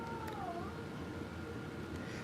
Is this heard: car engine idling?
no